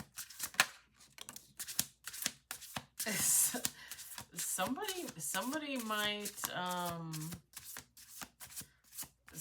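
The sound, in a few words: playing cards being shuffled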